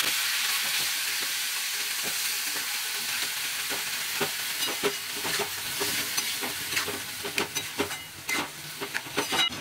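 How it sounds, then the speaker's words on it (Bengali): Spiced rice and lentils for bhuna khichuri are stirred in a hot pan, with scraping spoon strokes and soft frying sizzle. The scrapes grow more frequent and clatter toward the end, close by and unaccompanied by talk. "সব মশলা দিয়ে এবার একটু হালকা করে নেড়ে নিচ্ছি"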